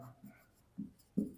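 Pen on paper writing fractions by hand, a few soft scratchy strokes at uneven intervals, close and faint in a quiet room.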